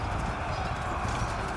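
Massed chariot horses' hooves pound in the video game Total War Pharaoh, a dense, steady rumble of clip-clop hoofbeats during an army engagement, moderately loud with no speech over it.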